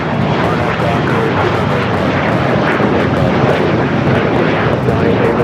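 A fixed-wing airplane roars loudly and continuously on takeoff from runway 25 Right at Los Angeles LAX airport, a broad, steady engine rush with no pause.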